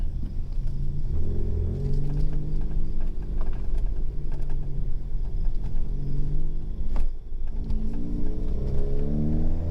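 Ford Fiesta ST, a rebuilt wreck, pulling hard on the road in second gear, its engine note rising through the revs in a deep steady rumble heard from inside the car, with no talk.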